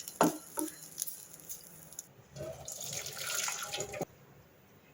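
Boiled bitter gourd drained from its cooking water, with water pouring and splashing through a strainer into a sink in a steady stream that swells midway, then stops abruptly near the end.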